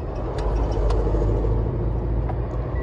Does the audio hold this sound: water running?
no